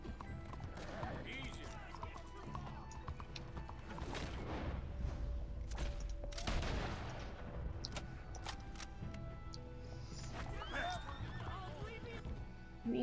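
A horse in a video game whinnies several times amid galloping hooves and chaotic action noise, with people talking over it.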